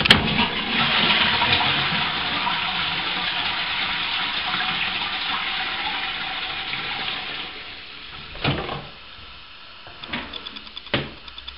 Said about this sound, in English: once you've done that, you go ahead and you flush it.